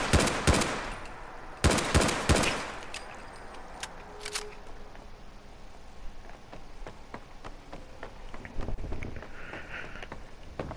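Gunfire from a 7.62 Mega Pistol in the video game Fallout 4. Two loud, rapid bursts of shots come close together near the start, followed by scattered fainter clicks and thuds.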